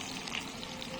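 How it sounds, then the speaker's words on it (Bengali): Bhetki fish shallow-frying in a pan, a steady close sizzle and crackle of hot oil running throughout, with a brief sharper spike at the very end. "মাছটা এইভাবে হালকা ভেজে নিয়েছি, এবার মাছটাকে তুলে নেব।"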